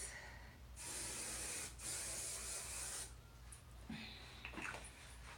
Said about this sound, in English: Last, I'll just use my spray, my Chi Shine Infusion, and I will do a light.